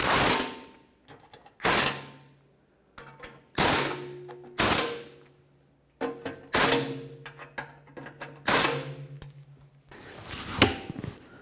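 Ratchet tightening bolts on a pitman arm of a 1997-2003 Ford F-150, heard as bursts of clicking at close range, about eight separate runs of rapid ratcheting with short pauses between them and no talk.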